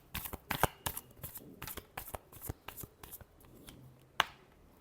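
Tarot cards being shuffled by hand during a reading, a quick run of crisp close riffles and slaps in an irregular rhythm, ending with one sharp snap, no voices.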